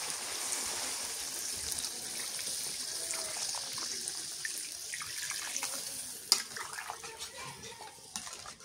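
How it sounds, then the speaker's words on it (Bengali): Water pours steadily into a pot of browned goat meat curry being cooked into a thin gravy, a continuous close splashing trickle that fills the whole stretch, with a sharp clink near the end. "কষানো হয়ে গেছে, এখন জলের পানি দিই।"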